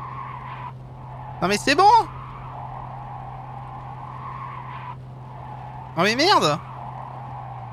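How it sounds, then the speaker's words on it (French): A player's car in the Cyberpunk 2077 video game gives a steady low hum broken by two bursts of squealing, rising mechanical whine a few seconds apart, with someone talking and swearing over it. "Elle fait un bruit bizarre ma bagne quand même."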